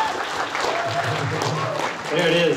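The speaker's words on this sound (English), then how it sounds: "There's your applause." A crowd applauds at an anime convention's Jujutsu Kaisen panel at Anime Riverside 2022. The steady clapping runs under a voice speaking briefly and grows a little louder near the end.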